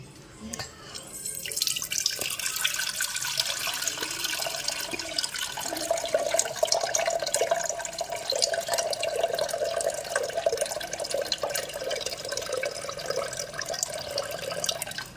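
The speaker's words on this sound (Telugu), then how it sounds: "ఈ వాటర్ అన్నిటినీ వేరే గిన్నెలోకి ట్రాన్స్ఫర్ చేసుకోవాలి" Rice water poured from one bowl into another, a steady continuous splashing stream of liquid running alone for most of the clip, with a brief quieter start.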